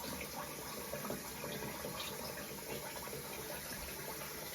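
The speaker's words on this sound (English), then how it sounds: "Now, let's rinse off." After a shave, a tap runs steadily for the rinse-off. The water makes a continuous, fairly faint hiss and splash with no voices.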